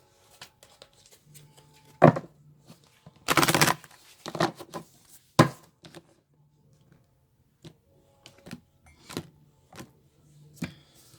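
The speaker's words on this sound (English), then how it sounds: "I'll shuffle one more time and then I'll cut." Tarot cards shuffled by hand in short, soft riffling bursts and scattered taps, one longer dense riffle near the middle, fairly close and quiet with pauses between.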